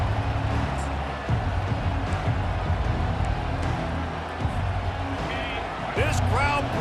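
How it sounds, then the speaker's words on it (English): Stadium crowd at a college football game roaring steadily early in a drive, a dense, loud wash of crowd noise with scattered shouts and whistles throughout, with a commentator's voice over it. "This crowd bringing the energy and noise early."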